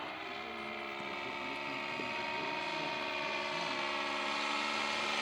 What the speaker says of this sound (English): God, that engine sounds so cool.